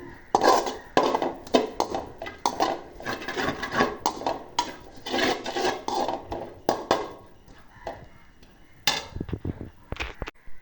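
Cardamom slowly dry-roasting in a pan over gentle heat, with a steady run of close, rasping scrapes and rattling stirs against the metal, broken by short pauses and louder clatters.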